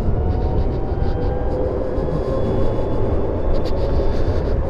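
BMW CE-04 electric scooter riding along, a steady broadband road and wind rush with a faint high electric motor whine running throughout, loud and continuous with no talking.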